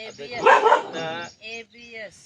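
A dog barks at another dog with a run of loud, close, harmonic barks and yelps. The calls come in uneven bursts separated by short breaks.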